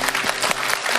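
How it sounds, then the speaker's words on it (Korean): Brief burst of brisk, continuous applause from a studio audience of seniors at a Korean talk show, fairly close and filling the moment with no voices over it. "박수 좀 보내주세요"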